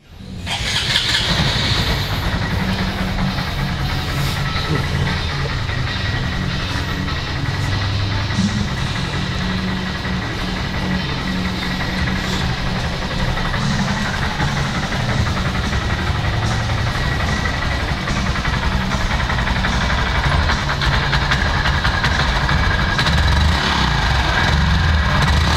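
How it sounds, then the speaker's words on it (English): A 2019 Honda Monkey motorcycle engine fires up at the start and then settles into a steady, quiet idle, a low continuous rumble that holds unchanged for about twenty-five seconds with no talking. "Let's go ahead and fire it up and listen how it sounds."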